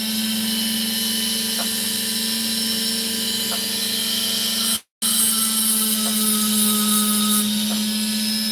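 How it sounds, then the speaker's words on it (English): Steady high-pitched whine of a Dremel rotary tool cutting a drop-shaped opal, continuous and close, with a brief silent break midway and no talking. "Very lightly caresses it with the Dremel"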